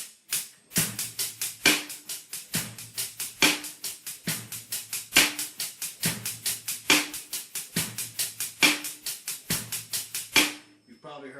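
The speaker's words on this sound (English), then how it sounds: "16th notes on the hi-hat. So instead of 8th notes, it'll be 16th notes" A steady funk drum groove with rapid, even 16th-note hi-hat strokes over kick and snare, repeating in a tight loop.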